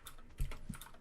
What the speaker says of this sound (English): Oh yeah, I hear the typing away.